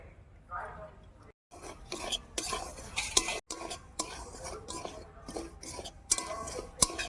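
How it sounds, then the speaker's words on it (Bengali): Semolina is stirred and dry-roasted in a wok over a lit stove, heard as close, uneven scraping and clattering of a utensil against the metal, with faint speech now and then. "মালপোয়া পিঠের জন্য সুজি লাগবে, তো সুজিটা ভেজে নেব।"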